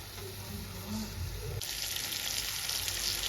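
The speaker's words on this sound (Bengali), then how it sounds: "ধনা পাতা দিয়ে ভালো করে নেড়ে চেড়ে নেব" Cabbage with coriander leaves sizzles in a frying pan as it is stirred, a close, steady frying hiss that grows brighter and louder partway through.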